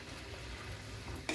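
Ground coconut paste goes into a simmering okra curry in a pan, a faint soft sizzle and stir with a brief sharper splash near the end, no talking.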